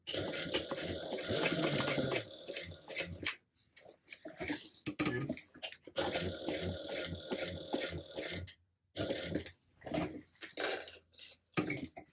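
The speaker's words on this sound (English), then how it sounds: "I'm gonna top stitch them all the way around." A sewing machine topstitches around the edges of a tote bag, running in fast rattling bursts of a few seconds each, broken by short pauses and small clicks, close to the listener.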